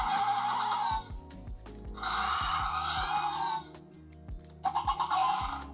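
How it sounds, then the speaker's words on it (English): A Mattel Jurassic World Rebirth Aerial Ambush Quetzalcoatlus toy plays electronic creature calls: shrill, bird-like screeching cries in three loud bursts over a low, stepped mechanical whir, close up with no talking. "you can control the jaw and it makes different noises"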